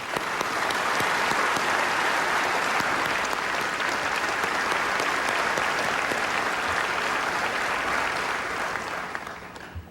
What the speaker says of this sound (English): with a well-deserved round of applause